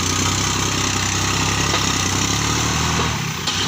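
A Kubota L3608 tractor's diesel engine idles close by with a steady, loud mechanical rumble and even throb, easing slightly near the end.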